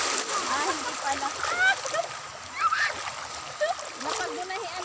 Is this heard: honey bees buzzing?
no